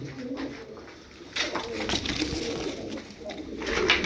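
Tumbler pigeons coo in low, soft, repeated calls close by, with a steady bed of outdoor noise and brief brighter rustles and flutters throughout.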